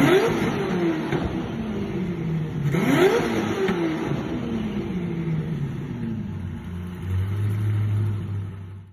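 An SSC Tuatara supercar's 5.9 liter twin-turbo V8 revs hard with rising, sweeping engine pulls and gear changes, then settles toward a loud, steady drone, close and with no talking.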